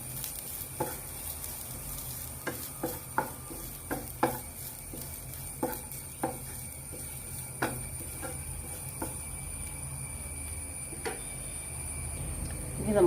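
Grated carrot and grated coconut being stirred in a hot pan for a carrot snack: a steady soft sizzle with scattered sharp clinks and scrapes of a spoon against the pan, fairly close, with no talking.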